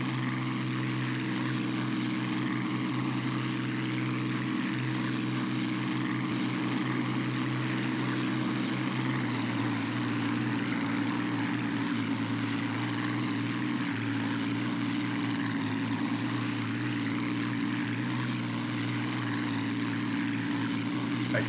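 A P-40 fighter plane in a flight game, flying without its rudder, gives off a continuous droning propeller engine hum that stays loud and steady throughout.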